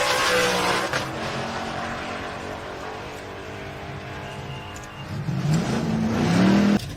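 A 1969 Camaro Z28 and a stick-shift Ford Galaxie launch off the drag strip line, loud roaring V8 engines revving and climbing in pitch under crowd and track noise, growing louder toward the end.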